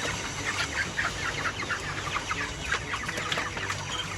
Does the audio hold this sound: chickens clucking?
yes